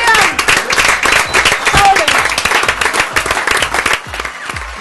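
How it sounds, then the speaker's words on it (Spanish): Loud, dense applause from a crowd at a televised tribute match event, steady crackling claps filling the whole stretch and tapering slightly near the end. "Y el aplauso, y el aplauso."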